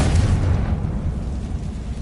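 A Confringo blast spell detonates in the Hogwarts Legacy video game, a loud booming explosion that hits at once and then rumbles away over about two seconds.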